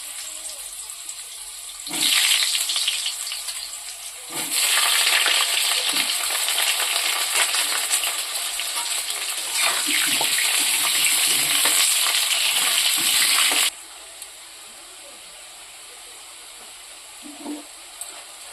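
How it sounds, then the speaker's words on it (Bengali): Potatoes dropped into hot oil burst into a loud, close, crackling sizzle that swells in waves and keeps frying steadily for several seconds before cutting back to a quieter background hiss. "তেলটা গরম হয়ে গেছে, আলুগুলো দিয়ে দেবো।"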